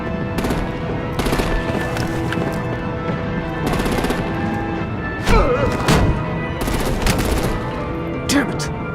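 Video game gunfire in Batman: The Enemy Within: sustained machine-gun bursts rattle in loud waves, broken by heavier thuds and crashes, with spoken voices mixed into the chaotic battle.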